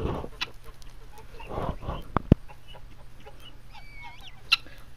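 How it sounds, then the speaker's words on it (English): Guinea hens and geese cluck and call inside a hen house, with a few scattered near squawks, a couple of sharp knocks and a steady low hum in the background. "There are two more guinea hens walking by."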